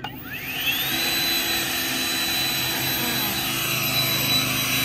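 An Aoetree 150MPH electric leaf blower spins up from a rising whine into a steady, loud, high-pitched rush of air on its normal setting without turbo, close by and without talk.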